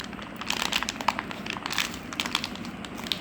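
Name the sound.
wrapping up a packet of poultry medicine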